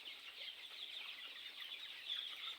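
Chickens clucking on a raised farm platform built over a fish pond, a faint, steady chorus of poultry calls at a distance with no voices.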